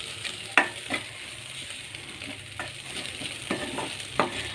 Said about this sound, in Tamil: ஸ்டவ் ஆஃப் பண்ணிவிட்டு கிளறி விட்டுடலாம்